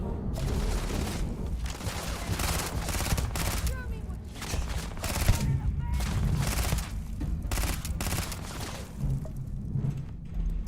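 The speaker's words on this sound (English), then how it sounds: "It's like a whole war going on behind me" Gunfire battle in Starfield: dense bursts of automatic fire and shots in rapid clusters, loud and continuous, with a voice talking at points.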